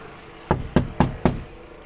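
Four firm knocks on a front door early in the morning on a glass delivery day, evenly spaced and fairly close, following a brief quiet moment, with no voices.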